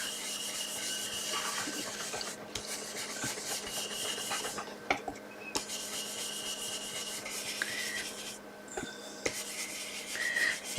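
A small brush rubs ink onto an embossed paper card in quiet, steady scrubbing strokes, close and soft, with brief pauses between passes and no talking.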